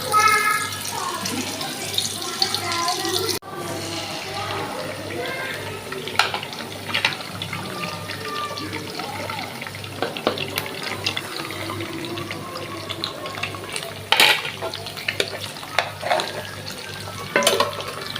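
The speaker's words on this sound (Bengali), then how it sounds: "আমি চাউমিন রান্নার জন্য তেলটা দিয়ে দিছি, তখন এদিকে আমি পেঁয়াজ দিয়ে দিব একটু, পেঁয়াজটা লাল হয়ে আসুক।" Onion frying in hot oil in a home kitchen for chowmein, a steady, close sizzle with faint clatter and a few sharper pops running for the whole stretch.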